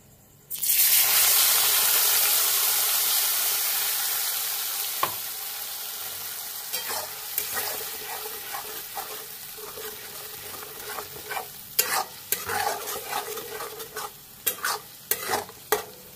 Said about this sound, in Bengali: এখন এটাকে নাড়বো আমি কন্টিনিউ ভাজার জন্য